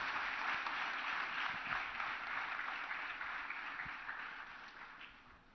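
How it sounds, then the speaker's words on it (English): Audience applause, a dense wash of many hands clapping at once, steady and then slowly fading toward the end, heard from within the crowd. "Now a big applause."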